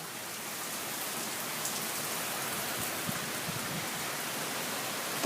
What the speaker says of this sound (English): Now it's raining. Look at the rain curtains.